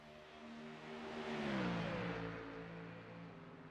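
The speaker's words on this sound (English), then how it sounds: "as you can hear these drivers downshifting these cars, getting ready to take that chicane" Race car engines roar past with harmonic tones sweeping downward as the cars downshift approaching a chicane during an AARS race at the Roval, swelling loud mid-clip then easing off; no talking.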